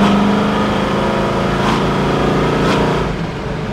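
A 1972 Chevrolet Chevelle SS with a cowl induction hood, engine running steadily and loud up close, with two short throttle blips rising over the drone before it settles lower at the end.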